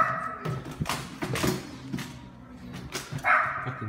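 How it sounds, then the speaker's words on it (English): A dog barks in several short bursts, fairly close, with thumps and clatter around it and a brief higher yip near the end. "Fucking dog."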